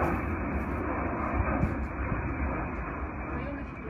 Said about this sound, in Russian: Во, самолет еще летит.